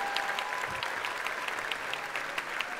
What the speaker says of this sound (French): Gounard et Renaud également, on peut applaudir bien fort.